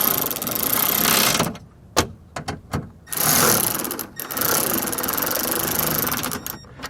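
A ratchet snugs up the bolts on a Toyota Camry rear door power window regulator, with bursts of rapid mechanical clicking close to the mic, stopping and starting with short pauses between runs.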